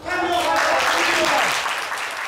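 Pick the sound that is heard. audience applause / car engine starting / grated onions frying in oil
audience applause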